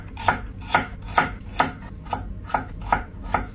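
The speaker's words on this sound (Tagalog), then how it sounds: "Hiwain lang natin ang okra, kamatis," A knife chops okra, tomato and onion on a cutting board in eight or nine sharp, evenly spaced strikes, fairly quiet and close, with no talking.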